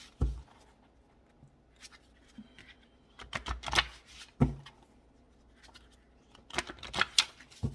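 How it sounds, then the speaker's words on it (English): A deck of cards gets shuffled up close in several quick, crisp riffling bursts, with quiet pauses and soft handling noises in between. "let me shuffle these real quick"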